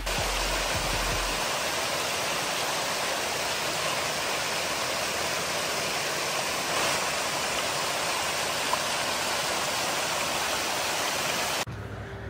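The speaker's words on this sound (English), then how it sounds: "I think I saw a better waterfall." A roadside waterfall in Chiang Mai, Thailand, roars in a constant, dense broadband rush, loud and unbroken for the whole stretch.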